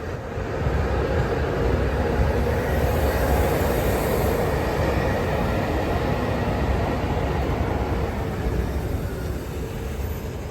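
Train on the Brașov to Sibiu line in Romania during a locomotive change, with an electric locomotive swapped for a diesel, giving a steady broad rumbling rail and engine noise throughout, fairly loud with no talking.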